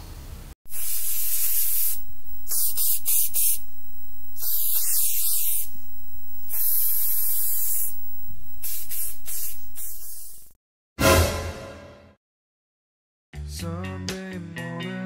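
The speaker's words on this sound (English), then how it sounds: "today I decided to do 100 layers of hairspray" Hairspray from an aerosol can is sprayed onto a guinea pig in long, loud, close bursts separated by short pauses, ending with a brief hiss before music starts.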